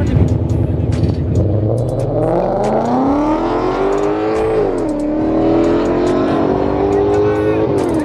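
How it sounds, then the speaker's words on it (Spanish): Drag racing at a Mexico City autodrome: a Mercedes lines up against a red Ford Mustang GT, and loud engines rev and accelerate with rising pitch sweeps, steady roar throughout, with crowd or voices faintly underneath. "Ahí viene un Mercedes contra Mustang GT rojo"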